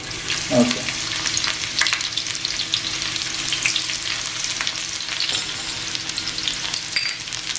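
Onion tipped into a pan of frying unpeeled garlic: a sharp burst of sizzling as it lands, then steady close frying crackle with stirring scrapes and spatula knocks throughout, loud and without talk.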